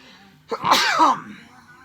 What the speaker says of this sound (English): That's how you're supposed to sneeze and cough.